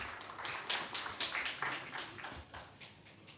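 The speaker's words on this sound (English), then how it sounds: "A round of applause, please." Audience applause at a forum in Rwanda: scattered, fairly quiet hand claps with individual claps standing out, steady throughout.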